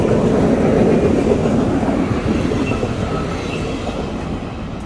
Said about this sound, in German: Und da kommt schon wieder ein Zug.